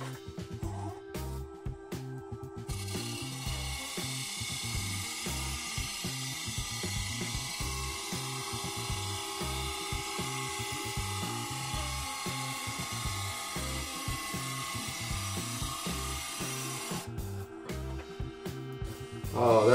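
A wood lathe spins a maple burl bowl while a tool takes a finishing cut, giving a steady, continuous whirring hum with a rapid rhythmic chatter throughout, fairly close and uninterrupted.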